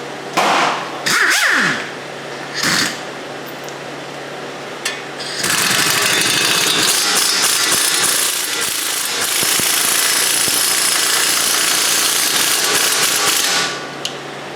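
Several short bursts from an impact wrench rattle loudly while a Chrysler 200 front wheel bearing is being replaced, followed by a long sustained hammering run at close range.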